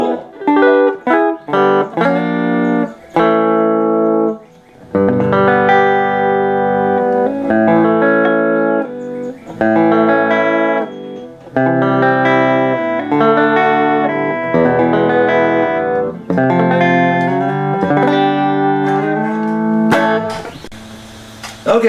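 Distorted electric guitar playing chords and riffs, loud and upfront, shifting between chunky sustained strums and short choppy bursts, with no voices.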